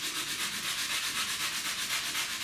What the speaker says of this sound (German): Wenn der Holzspachtel getrocknet ist, schleife ich das Ganze nochmal mit 80er Schleifpapier.